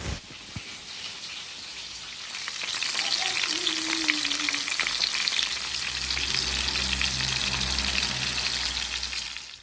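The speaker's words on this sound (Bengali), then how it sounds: "এখন আমি ডিমটাও ভেজে নিচ্ছি" Eggs fry in a pan after chicken, a soft crackling sizzle that swells and holds steady, fairly quiet and close, with a faint low hum beneath and no speech.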